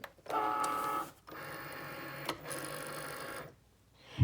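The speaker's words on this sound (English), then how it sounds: "I'm going to, as always, nudge my mat a little bit as I load it." A Cricut cutting machine loads its mat with a mechanical whir and rattle, running in two stretches and broken by a short pause and a small click, then stopping, with a soft thump at the very end.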